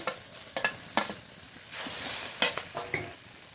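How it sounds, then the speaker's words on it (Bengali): Sliced okra sautéing with turmeric in a hot pan, with pieces of fried foli fish added, gives a close, steady sizzle broken by sharp scraping spatula strokes at an uneven rhythm. "এবার একটু কষিয়ে নেব ভেন্ডিটা একটু কষিয়ে নিয়েছি"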